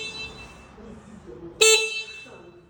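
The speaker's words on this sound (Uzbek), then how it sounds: "signal tugmachalari." A scooter's horn sounds once when its handlebar horn button is pressed, a short sharp electric beep standing out over a quiet background, preceded by faint low talk.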